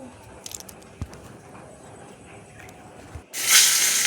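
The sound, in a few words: paniya khia fish frying in hot oil in a kadhai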